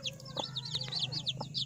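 Joper chickens cluck and peep, with quick high chick chirps repeating over a few low clucks and a steady background hum.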